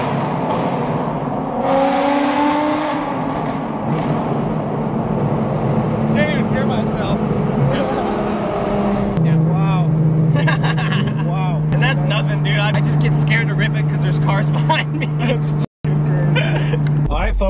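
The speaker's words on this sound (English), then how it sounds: "We'll just do a second gear downshift in the tunnel, because we can't give them all the juice on the exhaust yet." A tuned Audi RS3 with a loud engine note inside a tunnel, revving with a second-gear downshift and a sustained drone as it echoes off the walls, while people talk over it.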